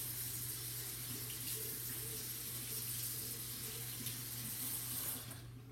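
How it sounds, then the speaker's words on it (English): Water runs steadily from a tap into a sink as hands are washed, a constant close hiss filling the whole stretch before fading slightly at the very end. "I had to wash my hands real quick."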